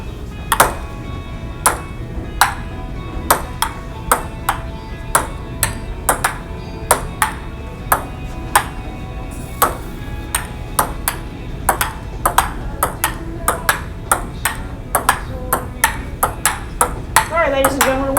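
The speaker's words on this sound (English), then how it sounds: "we're playing ping pong" A ping pong ball clicks sharply back and forth on a table in a rally, bright evenly spaced pings roughly twice a second throughout, with people talking underneath.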